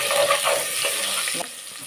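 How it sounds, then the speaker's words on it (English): Onion pieces frying in a pot for jollof rice make a soft, steady sizzle, fairly close, with a brief clatter near the end and no talking. "I like to fry for a bit."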